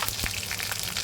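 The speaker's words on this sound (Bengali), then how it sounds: "সরিষাগুলো একটু ফুটুক, একটু গরম হোক, এর মধ্যে দিয়ে দেব তেজপাতা" Mustard seeds and a bay leaf sizzle in hot oil, a dense close frying hiss with a small pop early on and no voices.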